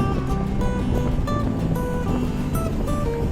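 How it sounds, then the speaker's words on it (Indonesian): Strong wind at Simpang 5 roaring steadily into the microphone, a dense, loud rumble with no break, with faint clatter in the background. "Anginnya kencang ya guys, ini di Simpang 5"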